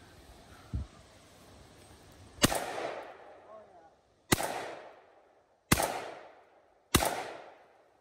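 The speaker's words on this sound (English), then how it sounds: "12-gauge shotgun Typhoon X12." Four loud, sharp blasts from a Typhoon X12 12-gauge shotgun fired outdoors at irregular intervals, each with a ringing decaying tail, plus a faint thump before the first shot.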